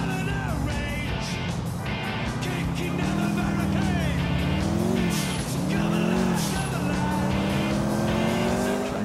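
A Sultan RS races at top speed in GTA IV, engine roaring loudly and continuously with rising and falling pitch, tires squealing and other game traffic sounds mixed in, with occasional voice in the background.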